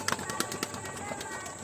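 Pigeons in a home loft give short, soft coos in a quick cluster, close by, over a rustling background.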